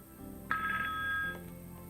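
A Cisco MPP 508 desk phone rings with a transferred call coming back in, giving one short, loud electronic ring burst close by, alone without talk.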